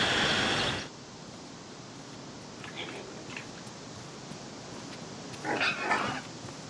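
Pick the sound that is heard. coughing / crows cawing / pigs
pigs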